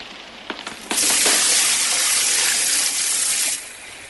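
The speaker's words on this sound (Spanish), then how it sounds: "Decididamente cogí un cubo de agua que vertí sobre las llamas." Water from a bucket is poured onto a fire's flames, a loud, broad rushing splash and gush that starts abruptly after a few faint clicks, holds steady for about two and a half seconds, then cuts off.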